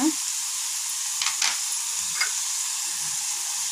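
Green chillies and ridge gourd fry in oil in a pan, a constant hissing sizzle broken by a few sharp scrapes of a spatula stirring.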